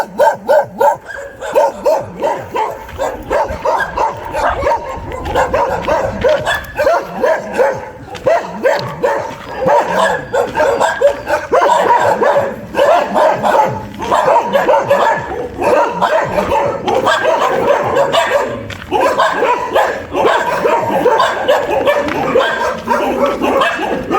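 A dog barks repeatedly and loudly nearby on a street walk in Ecuador, short agitated bow-wows and yips in irregular bursts with some whimpering, continuing for over twenty seconds.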